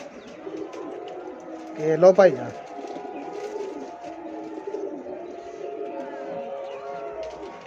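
A white-eyed teddy pigeon coos once in a brief, throaty burst close by, while someone talks over a quiet background.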